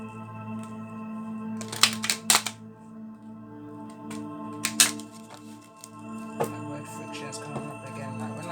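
Tarot cards being shuffled by hand in a quiet room, giving soft riffling bursts around two and five seconds and lighter card rustles elsewhere over a steady low hum.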